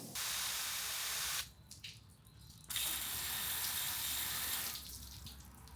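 A water hose sprays hard against a motorcycle helmet visor in a loud hiss, cutting off for about a second, then spraying again before easing.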